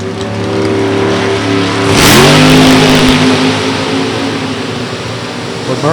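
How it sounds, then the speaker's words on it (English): Camaro drag race car launching at a drag strip, loud engine roar with a sharp burst of revving and a rising whine as it accelerates away, sustained and close. "For Murray, car comes to a complete stop, then launches again."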